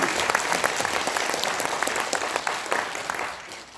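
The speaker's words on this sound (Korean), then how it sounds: "이럴 때는 여러분들의 박수가 필요합니다." Audience applause at a special lecture and general assembly, a steady wash of many hands clapping that holds for several seconds and fades slightly toward the end.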